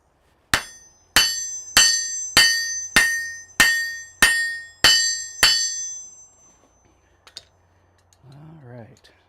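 Cross peen hammer planishing metal in a smithy: nine sharp, ringing metallic strikes at a steady, even pace, close and loud, each decaying briefly, then quiet with a faint knock and a brief voice near the end.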